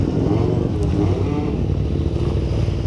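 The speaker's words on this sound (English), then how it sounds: "Some bikes revving at these lights." Motorcycle engines, including a red Ducati Supersport, rev and rumble loudly and continuously nearby at traffic lights, a steady throaty roar with rising and falling throttle blips.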